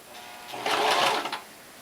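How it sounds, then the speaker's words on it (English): Sewing machine stitching the seams of a braided blanket in one short burst of about three-quarters of a second, a steady close whirring hum that rises and stops, with quiet room tone on either side. "I'm sewing those seams shut when I press them together"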